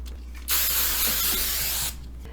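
A single sustained hiss of hairspray from an aerosol can, lasting about a second and a half, close and fairly loud, with quiet before and after.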